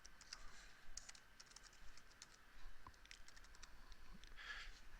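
Typing on a computer keyboard, a faint run of quick, light key clicks in uneven bursts with no voices.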